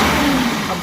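A car engine, just adjusted for air-fuel mixture to stop a high idle, runs close and loud with a steady mid-pitched hum and a slight rise in pitch over a brief moment.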